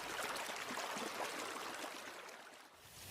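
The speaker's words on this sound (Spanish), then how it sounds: "el murmullo del río y las piedras" A river murmurs over stones in a steady, unbroken rush of water, close and even throughout, with no voices.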